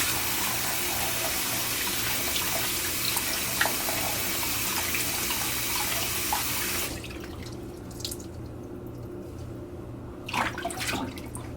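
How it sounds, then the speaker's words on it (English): Water streams steadily onto a makeup brush being cleaned, a continuous splashing rush that cuts off partway, leaving a few faint drips and small handling sounds. "I'm just gonna pour water over it."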